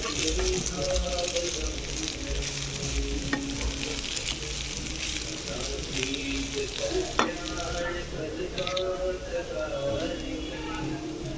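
Cooked jeera rice is stirred and tossed in a hot pan of sizzling oil, with a continuous frying hiss and scraping spatula strokes. The sizzle stays steady throughout at close range.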